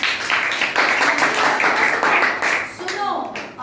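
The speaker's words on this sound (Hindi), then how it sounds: "सबके लिए ताली बजाओ" Children in a classroom clap together for everyone during an English grammar lesson on singular and plural nouns, a dense, steady patter of many hands lasting several seconds before fading.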